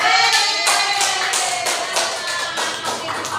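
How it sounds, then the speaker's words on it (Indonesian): Classroom audience at a university small-group discussion session claps for two students, a brisk, fairly loud patter of many hands that eases slightly toward the end. "Tepuk tangan dong untuk Sira dan Lisa"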